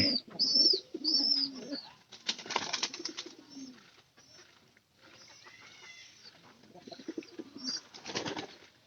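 Domestic pigeons kept at home and fed on corn coo repeatedly, with a few soft wing flutters, close by and fairly clear; no one talks.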